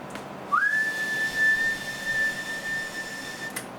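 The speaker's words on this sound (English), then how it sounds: "Do it a good whistle" A steady, sustained whistle into the microphone of a tuned and upgraded General HP40w high-powered CB radio, one long held tone lasting about three seconds, clear and fairly loud with a short rising start.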